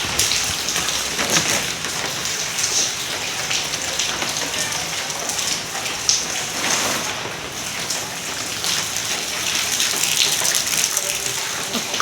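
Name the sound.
heavy monsoon rain during flooding in Vasai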